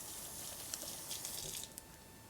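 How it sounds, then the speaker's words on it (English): Hands rinsed under a running kitchen tap, a steady hissing stream of water with small splashy bursts as the hands move through it, close and alone. "Rinse my hands."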